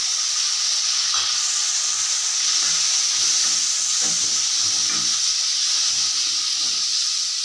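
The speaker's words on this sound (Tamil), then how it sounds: "அதை வந்து நம்ம வந்து எண்ணெயில் சேர்த்தலாம்." Tomatoes fry in hot oil for a dried fish curry with a steady, loud hissing sizzle throughout, with faint scraping and stirring noises underneath.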